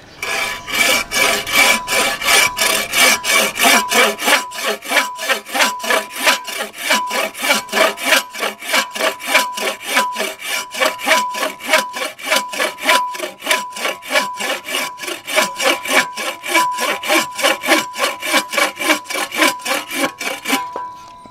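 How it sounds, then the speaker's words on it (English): A Bob Dustrude Quick Buck Saw cuts through wood with fast, even push-pull strokes, a loud rhythmic rasping close up that repeats steadily for about twenty seconds with no talk. "as I'm sawing, you're just going to see me very lightly sawing, and it's going to chew right through this wood."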